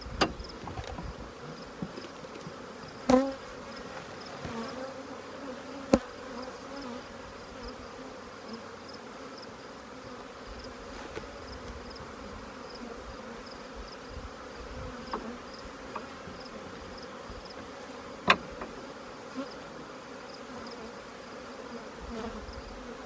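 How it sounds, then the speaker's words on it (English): Honeybees buzzing densely around an open hive's brood nest frame in fall, a steady close drone throughout with a few brief knocks and clicks. "Lots of bees"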